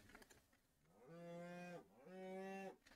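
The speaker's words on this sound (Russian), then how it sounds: "Корова." Two drawn-out moos from a cow in the Minecraft video game, modded version 1.18.2, each lasting under a second with a short pause between, loud and close with no talk.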